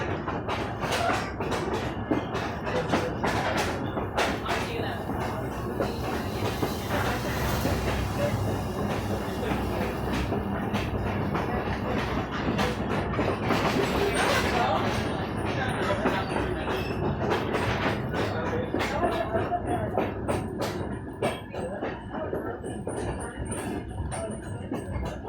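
A heritage passenger train rolls along on a scenic ride out of Nelsonville, Ohio, with steady clickety-clack from the rail cars, rumbling wheels and occasional squeals. A faint voice can be heard beneath the rail noise.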